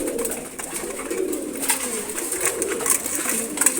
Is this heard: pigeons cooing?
yes